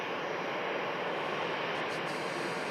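A KLM Airbus A320neo airliner heading out at Manchester Airport, its engines a faint, distant broadband roar holding steady throughout.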